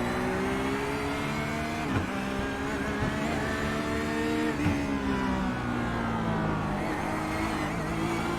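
Porsche GT3 race cars lap the Hockenheim circuit, with a continuous loud engine roar rising and falling through gear changes as the cars run together near the track.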